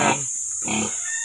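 Two short, rough grunts from a sow close by on a pig farm, separated by a brief pause, with a steady high-pitched hiss in the background.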